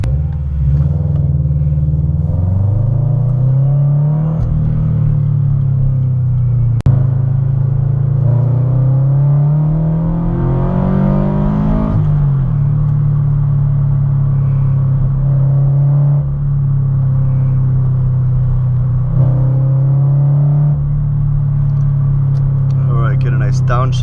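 A tuned Subaru BRZ with a leaking header revs and pulls through the gears up close, its engine tone rising and falling steadily, with a deep rumbling note and a raspy edge under occasional talk.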